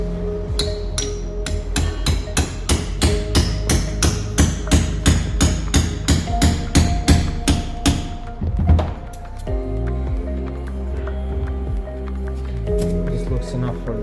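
An oiled pin is hammered into a Getrag M32 differential from an Opel Corsa OPC/VXR with a fast, steady run of loud, close metallic strikes, about twenty in a row. A short pause and quieter mechanical handling follow, with a voice speaking over it.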